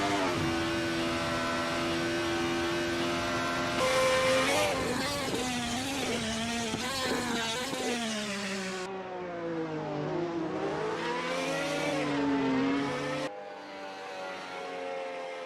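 Touring race cars, including two 99 Corse entries, roar down a back straight in a racing game, engines whining and shifting pitch as they pass in a continuous loud blend.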